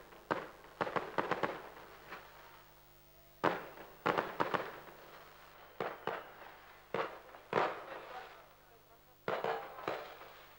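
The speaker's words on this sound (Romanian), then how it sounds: "Evenimentul s-a încheiat cu un superb foc de artificii care a durat în jur de 10 minute." Festival fireworks for the feast of Saint Mary in Târgoviște: bursts of cracking explosions arrive in repeated clusters, loud but with a slightly distant, open-air quality.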